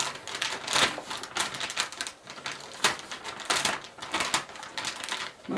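A small bullet knife cuts open a package, giving dense bursts of scraping, crackling slicing noise in irregular strokes close to the microphone, with no talk.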